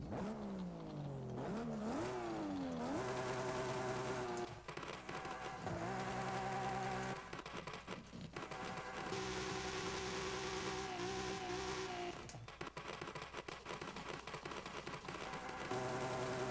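A car engine in Forza Horizon 5 revs and whines, pitch sweeping up and down through gear changes, a steady buzzing drone with no talking.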